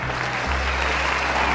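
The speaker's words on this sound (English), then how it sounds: "I bet it's really loud over here, freaking highway." Steady broadband roar of highway traffic carrying over a golf course, a constant loud wash with a low hum, no voices.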